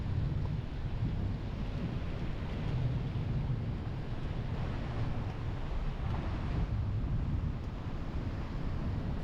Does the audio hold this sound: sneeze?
no